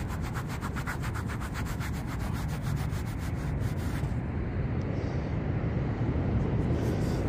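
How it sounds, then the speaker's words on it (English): Steady, close scratchy rubbing of a dug-up metal-detecting coin between the fingers, a continuous gritty friction with no pauses. "Let's rub it."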